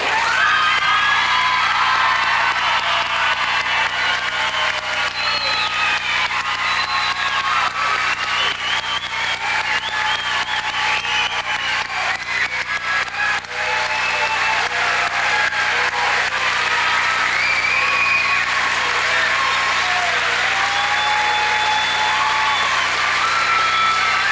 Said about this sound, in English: let's stand and applaud the graduates of 2004